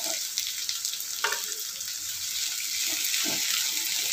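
Okra sautéing in a pan makes a steady, moderate sizzle with an occasional light stir or clink.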